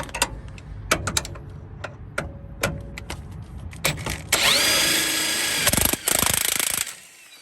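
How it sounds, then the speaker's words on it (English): Impact wrench working on a Honda Civic axle part, preceded by scattered sharp knocks and clicks, then a loud sustained rattling burst for about two seconds before cutting off, close by. "A little trick here is you can go ahead and use your impact."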